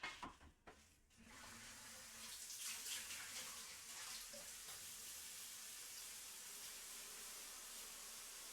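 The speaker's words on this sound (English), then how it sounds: "I'm gonna rinse out this bowl." A bowl is rinsed under a running kitchen tap, a steady close rush of water that lasts throughout after a few brief clunks at the start, with no talking.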